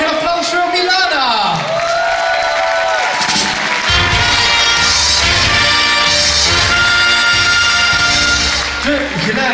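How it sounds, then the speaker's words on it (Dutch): Carnival session audience applauding and cheering loudly and continuously in a hall, thick clapping and shouts mixed with music and a voice over the top throughout. "Mag ik een applaus voor Milana?"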